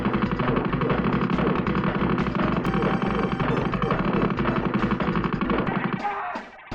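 Turret gunfire in a video game, a dense continuous rattle of rapid shots, loud and steady throughout, that cuts off near the end.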